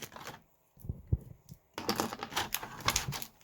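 Taped-in LoopDeLoom loom kit parts are pulled free, giving sharp tape rips and crinkly rustling in irregular bursts up close, no talking.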